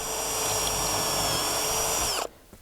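A power drill runs steadily at full speed with a high whine, then stops abruptly, leaving a short quiet tail with a faint knock.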